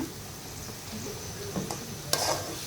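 A pan of spices with ginger paste, garlic paste and salt sizzles under brief stirring scrapes, ending with a sharper clink, a short close burst with no voices.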